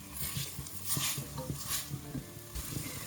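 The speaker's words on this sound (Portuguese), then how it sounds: "Eu preciso que esses ingredientes fritem" Onions sizzle over high heat in a pan for beef stroganoff, a steady hiss broken by stirring and light clinks of a utensil against the pan.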